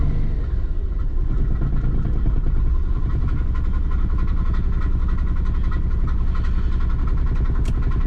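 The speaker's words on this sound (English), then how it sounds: "that's running on 4 cylinders again" A Toyota 80 Series Land Cruiser engine idles roughly while misfiring, running on only four or five cylinders, giving a loud, close, steady uneven throb with a lumpy pulsing rhythm and no talk.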